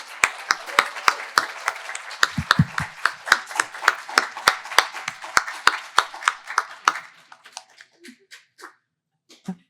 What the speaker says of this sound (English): can we just have another round of applause?